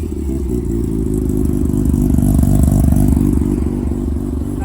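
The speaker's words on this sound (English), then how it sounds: "Give it some revs." A Nissan 350Z engine revving, a steady loud low rumble that swells slightly mid-way as the throttle is blipped, heard close with no talk over it.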